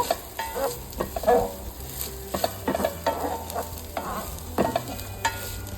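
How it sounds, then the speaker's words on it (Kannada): Grated coconut, about five spoonfuls, stirred and roasted in hot oil in a pan for Karnataka-style coconut rice, giving a steady close sizzle broken by repeated scraping and clinking strokes of the spoon, with no talking. "ತೆಂಗಿನಕಾಯಿ ತುರಿದಿರ್ತೀವಲ್ಲ, ಅದು ಒಂದು 5 ಚಮಚ ಹಾಕಿಬಿಟ್ಟು ಅದನ್ನು ಸಹ ಎಣ್ಣೆಯಲ್ಲಿ ಸ್ವಲ್ಪ ಹುರ್ಕೋಬೇಕು."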